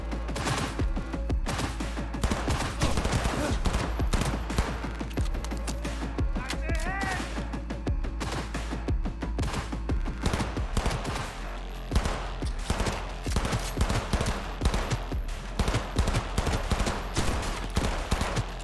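Rapid automatic gunfire in the video game Cyberpunk 2077, dense bursts of loud shots crackling almost continuously over a low rumbling background, with brief pauses and occasional impacts.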